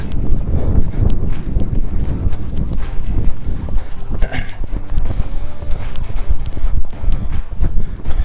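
A horse loping under a rider, its hooves clip-clopping in a steady rolling rhythm that runs loud and close through the whole stretch, with the odd snort and creak of tack but no talk.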